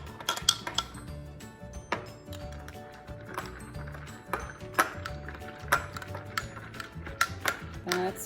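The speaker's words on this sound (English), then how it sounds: "And give it a good stir just to dissolve the salt a little bit." Salt being stirred into homemade almond or cashew milk, with a spoon repeatedly clinking and scraping against the container in quick irregular taps, close and fairly faint, over a low background hum.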